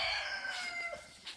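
A standard-size, part-Silkie rooster, white, crows once, close and loud, a long harmonic call tapering off with a brief squawk near the end.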